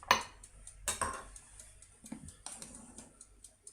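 Biscuit Joconde batter stirred with melted butter in a bowl, giving sharp utensil clinks against the bowl followed by irregular softer taps and scrapes, close and quiet between hits.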